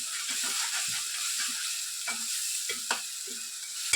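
Onion chili paste (ulli karam) fries in hot oil and sizzles steadily while a spoon scrapes and stirs it in the pan with short, irregular strokes. The sound is close and fairly quiet, with no speech.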